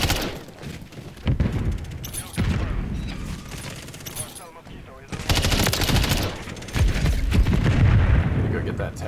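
Heavy automatic gunfire from Modern Warfare III rattles in repeated loud bursts, with a player talking over the shooting.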